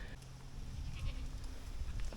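Four goats, two males and two females, bleat briefly while being moved off their tethers into a new paddock on land they are clearing. The bleats are fairly faint and mix with a steady outdoor rumble.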